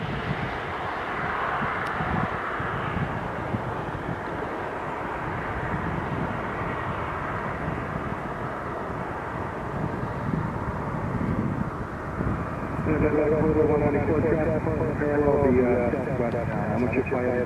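An airliner takes off at Philadelphia airport, its engine roar a steady broad rumble throughout that swells slightly louder near the end, with someone talking over it.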